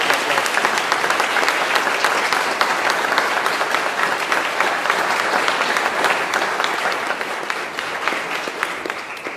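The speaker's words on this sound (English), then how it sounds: "So, round of applause again for them." A crowd at a New Bedford police ceremony welcoming six new officers gives a sustained round of applause, dense steady clapping that carries on for several seconds without letting up.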